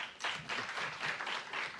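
Applause from a conference audience follows a presentation on ecosystems, coming in short swelling waves of moderate clapping. The sound is somewhat distant and soft, with no voices over it.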